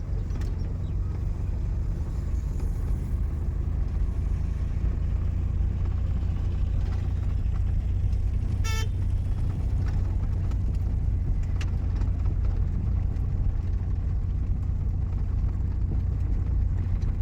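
A manual car pulls away slowly in second gear during a driving lesson, with a steady low engine rumble and road noise throughout and no clear gear change.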